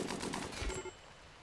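Gunfire in Rimworld: a quick rattling burst of small, crackly shots that stops abruptly, faint and without voices.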